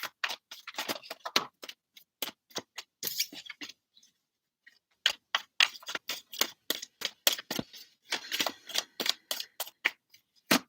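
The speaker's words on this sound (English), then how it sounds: "Get a good shuffle in for you, Aries." Tarot cards being shuffled up close, a fast series of crisp flicks and riffles broken by a brief pause, then more rapid snapping shuffles.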